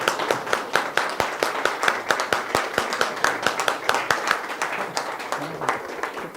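Audience applause welcoming Mr. Ranajit Mohanty onto the stage at a wellness seminar: dense, steady clapping from many hands close by, with sharp individual claps standing out, continuous throughout without speech.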